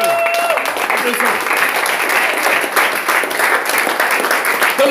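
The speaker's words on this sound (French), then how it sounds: "Applaudissons pour le Seigneur. Applaudissons." A church congregation applauds during a worship gathering, a dense continuous wash of clapping with a faint sustained tone and murmuring voices mixed underneath.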